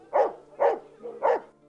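Dogs rescued from a dogfighting case and housed at an animal sanctuary near Kanab, Utah, bark three times in quick succession, close and clear against a quiet background.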